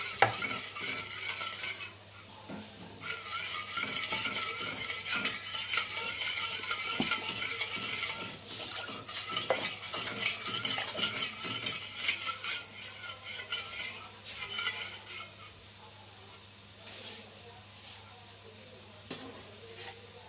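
A spoon stirs and mixes chicken filling for bread pockets in a pan, a steady scraping and faint sizzle running throughout at close range with small clinks of utensil on metal.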